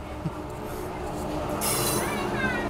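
Interior of the Secunderabad Duronto Express passing non-stop through Gwalior Junction: steady low rumble of wheels and carriage, with a brighter rushing, squealing burst midway as the train runs through the station.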